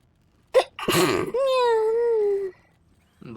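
A single close, loud human sneeze: a sharp intake, an explosive burst and a drawn-out voiced tail, then a moment of quiet before a voice starts.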